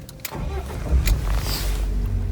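A BMW E36 engine runs nearby and briefly revs up during a burnout attempt, its low rumble swelling and then settling back to an idle.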